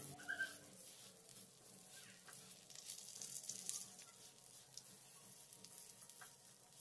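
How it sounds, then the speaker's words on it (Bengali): Rice frying and being stirred in a wok over a low flame for basanti pulao gives a faint, steady sizzle with light scraping, continuous and close. "লো ফ্লেমে মিনিট 2 চালটাকে ভেজে নিয়েছি"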